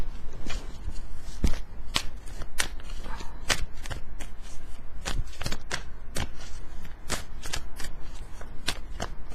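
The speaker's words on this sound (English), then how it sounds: "Sorry, it's taking forever to shuffle." Repeated crisp riffling bursts of tarot cards being shuffled, a dozen or so sharp flutters at an uneven rhythm, close and alone.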